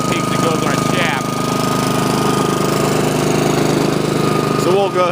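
A Honda HRX217 lawn mower engine runs steadily nearby with a continuous rumbling drone and rapid rhythmic pulsing, loud throughout, with brief faint voices in the background.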